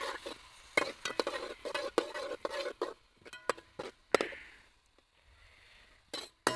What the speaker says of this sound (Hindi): अब हमने इसमें डाल दिया प्याज